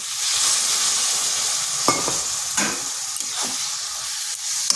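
Egg and eggplant frying in a pan with a little water, a steady loud sizzle throughout, broken by a few sharp scrapes of a spatula stirring the mixture, with no talk.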